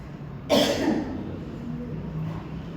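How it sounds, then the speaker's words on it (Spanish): A single harsh cough bursts out close to the microphone, followed by quieter room noise. "me perdona porque tengo una tos que me quiere molestar"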